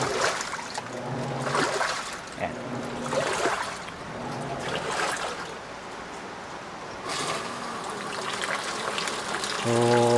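Steady rushing and trickling of water into the tub of a Panasonic 8.0 kg washing machine filling, with a low mechanical hum and a brief motor whir near the end.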